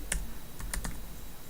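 Someone types Java code on a computer keyboard, a few quiet, close keystrokes in a short irregular burst over faint room noise.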